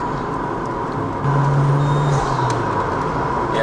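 Toyota Chaser JZX100 turbo engine under load, a steady throaty drone that swells briefly as the turbo spools, then settles back into a continuous hum, no talking.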